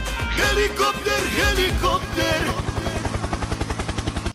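A brief tonal, voice-like sound gives way to a helicopter's rapid, rhythmic rotor chopping. The chopping is loud and steady, then cuts off abruptly.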